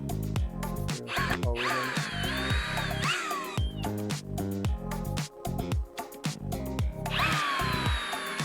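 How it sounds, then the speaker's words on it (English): A power drill pre-drills holes in wood for a gate, its motor whining up in repeated bursts with grinding bit chatter and knocks between runs, loud and close with no talking. "take my drill and pre-drill some holes in it."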